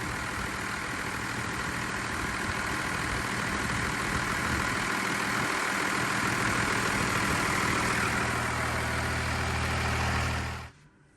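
An old diesel-powered Dodge truck idles smoothly and loudly up close, a steady, even rumble that holds for about ten seconds before cutting off abruptly.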